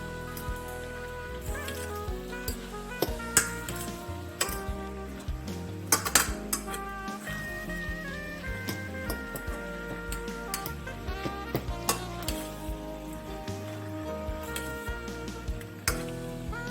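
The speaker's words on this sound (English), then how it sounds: "Just mix it around so that the sauce is distributed evenly." Stir-fry vegetables and pasta being mixed with packet sauce in a pan, with irregular metallic clinks and scrapes of a utensil against the pan over a soft sizzle, no talk.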